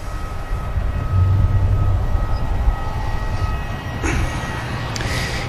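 An airliner takes off at Manchester Airport, its heavy jet roar holding steady and loud throughout as a broad low rumble, with a brief swell of higher hiss near the end.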